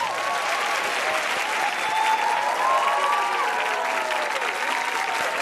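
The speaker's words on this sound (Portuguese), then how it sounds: "Pode aplaudir eles, pronto, primeiro." Studio audience applauding during a television talk show with a big band guest, steady dense clapping sustained throughout at full volume.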